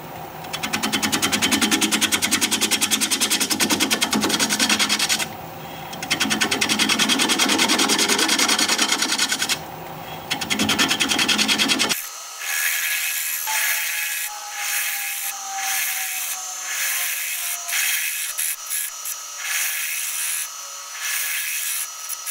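Wood-turning tool cutting across a thin wood slab spinning on a lathe, a loud continuous rough scraping broken by brief pauses, then a quieter whining spin with lighter tool contact, close and without talk.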